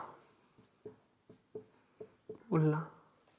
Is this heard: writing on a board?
yes